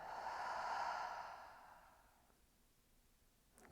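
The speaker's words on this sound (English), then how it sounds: "One more full body breath in. And an audible exhale." A long, breathy audible exhale after a full-body breath in a yoga session, loud at first and then fading into quiet, with a faint click near the end.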